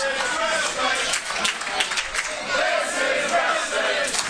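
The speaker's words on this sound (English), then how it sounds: "what the crowd are chanting right now says everything" Wrestling crowd at a Kamikaze Pro independent show chanting together in a hall, a dense, steady roar of many voices with rhythmic swells, loud and close throughout.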